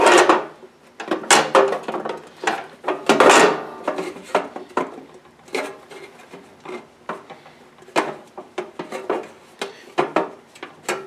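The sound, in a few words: bending sheet metal hems on a metal bird house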